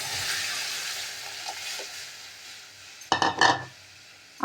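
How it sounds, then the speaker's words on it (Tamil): Asafoetida powder is tempered in hot oil for a rasam, producing a soft, steady sizzle. A few sharp metal clinks from a spoon against the pan come near the end. "அப்படியே கொஞ்சம் பெருங்காயத்தூள் போட்டுக்கலாங்க. இது நல்லா பொரியிட்டுங்க."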